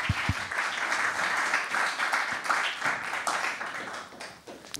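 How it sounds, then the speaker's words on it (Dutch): An audience at a Black Achievement Month gathering applauds, dense sustained clapping from a room full of people that tapers off toward the end. "Applaus."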